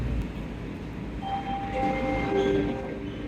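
An airport rail-link train arrives at and leaves a station platform, giving a steady low rumble with rising metallic squeals and tonal whines, loud and close, with no talk.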